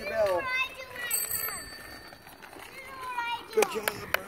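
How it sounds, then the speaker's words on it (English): A child's bicycle bell rings a few times outdoors among children at play, bright and brief amid lively kids' voices and an adult talking. "Isabel, ring your bell."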